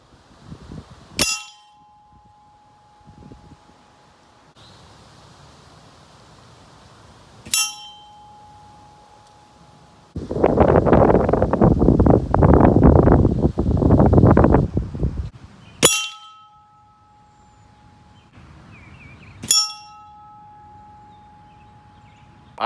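Steel bell target hanging free from a 4-in-1 target system rings with sharp metallic clangs, four distinct strikes each followed by a sustained humming tone, while a stretch of loud wind noise fills the middle.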